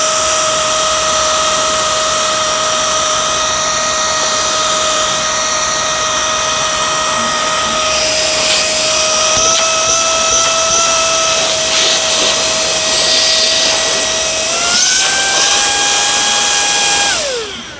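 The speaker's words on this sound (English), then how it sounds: "start vacuuming the hair off" A Samsung Jet VS70 cordless stick vacuum runs continuously on a filthy carpet while pulling up hair, giving a loud steady high-pitched motor whine. The tone shifts upward near the end and then cuts off, with no talking over it.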